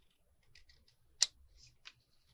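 Scissors snip through a paper tag shape for a Victorian album journal, a few soft close crisp cuts with one sharper snip in the middle, in an otherwise quiet room.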